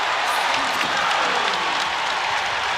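A basketball arena crowd roars at a college men's game, Indianapolis versus Indiana, after a player's spin move and finish, a loud, sustained wall of cheering with no breaks.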